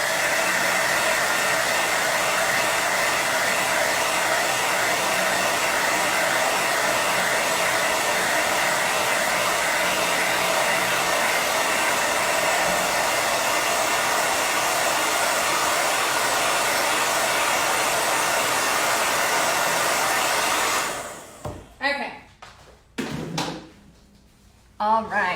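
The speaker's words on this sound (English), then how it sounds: "I'm gonna blow dry this part right here so I can do the Hello Spring." A hair dryer blows on paint to dry it, a steady, loud whoosh that runs continuously for about twenty seconds before cutting off, followed by a few short handling knocks and thumps.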